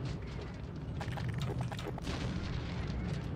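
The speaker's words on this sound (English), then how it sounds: "Sounds like that tank's shooting off its shells." Tank firing shells in the Black Mesa video game, dull booming blasts and rumbling gunfire over constant low game ambience, moderately distant.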